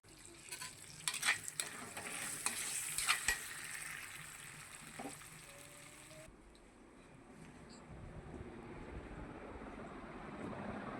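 Cloves, ginger and garlic frying in a pan with onion, a soft sizzle and clatter of stirring for several seconds, then a quieter steady hiss after the pan seems covered.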